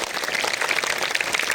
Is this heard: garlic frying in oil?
no